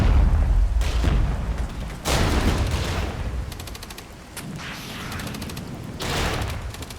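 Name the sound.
tank returning fire in Regiments video game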